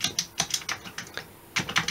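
Keys on a Commodore 64 keyboard are pressed one at a time in an irregular sequence of sharp, close clicks with short pauses between, some strokes doubled, and no talking over them.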